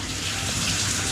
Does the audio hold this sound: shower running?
yes